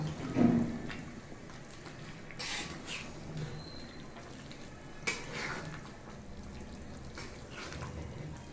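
Beef frying with garlic and dried chilies is stirred in a pot, with scattered scraping and clinking of a spoon against metal and a low background sizzle, heard close and without talk.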